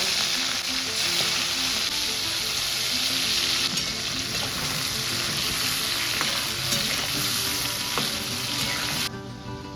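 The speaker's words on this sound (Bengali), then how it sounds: "এবার মাছগুলো ছেড়ে ভেজে নেব।" Prawns fry in hot oil in a pan for a prawn malai curry, a loud dense crackling sizzle that runs steadily throughout with faint stirring clicks and no voices.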